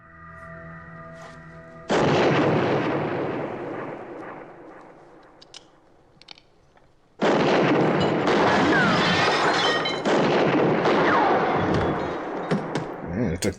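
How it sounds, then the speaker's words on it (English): Gunshots from the 1973 film Westworld: two loud, booming blasts, each trailing off into a long rumbling decay, separated by a quieter gap, with voices faintly present. "It took 3 shots to take him down"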